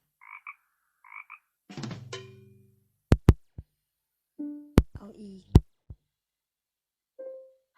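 Cartoonish frog croak sound effects play as short, loud, resonant bursts spaced apart, with sharp clicks and brief chirps between them and silence around each hit.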